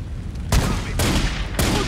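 Sniper gunfire in Godfather 2 at the Almeida Compound in Cuba, three loud, booming shots spaced about half a second apart over a low background rumble.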